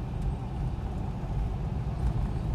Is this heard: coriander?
no